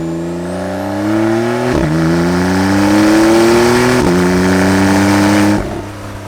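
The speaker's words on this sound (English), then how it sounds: "if you press this, it gives you like an overboost feature that gives you boost of power" A Porsche 911 Carrera 4S with a 3-liter twin-turbocharged flat-six of about 420 horsepower accelerates hard on overboost, its loud, close engine note climbing steadily in pitch and dipping briefly at three quick gear changes, with no talking.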